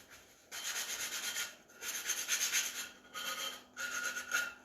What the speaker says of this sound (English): just want to just quickly take those off with your sandpaper